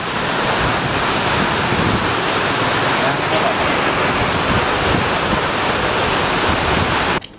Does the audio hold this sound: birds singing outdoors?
no